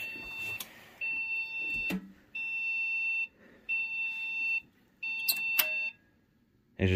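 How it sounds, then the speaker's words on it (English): A Packard Bell Windows 95 computer powered on with no RAM installed sounds a series of steady electronic beeps, about five tones of roughly a second each with short silent gaps, loud and alone. "it just beeps"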